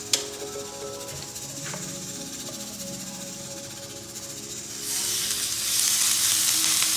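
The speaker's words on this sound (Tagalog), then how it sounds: "kailangan po mainit na mainit po yung sizzling plate" Bangus sisig sizzling hard on a very hot sizzling plate, a loud continuous crackling fry with bursts of spitting that swell louder toward the end.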